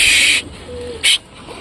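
Released pigeons take off outdoors with two loud, close bursts of airy, fluttering wingbeats separated by a short pause, over quiet background noise.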